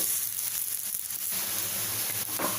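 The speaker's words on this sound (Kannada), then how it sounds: "ಈಗ ಎರಡು ನಿಮಿಷ ಚೆನ್ನಾಗಿ ಫ್ರೈ ಆಗಿದೆ ತಿರುಕೊಳ್ಳೋಣ" Rice rotti (akki rotti) sizzles steadily as it roasts on a hot pan, a continuous soft crackling hiss heard close by with no talking.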